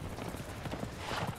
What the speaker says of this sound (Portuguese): O cavalo atropela a criatura também.